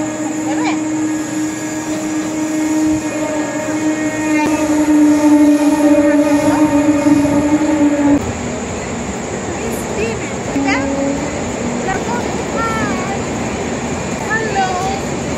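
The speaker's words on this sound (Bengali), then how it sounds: "ট্রেনে তো উঠলাম, এখন দেখা যাক কি হয়।" A passenger train heading toward Darjeeling rumbles along steadily with a loud, sustained drone and a bright high whine, a shift in tone partway through, and voices chattering faintly inside the carriage.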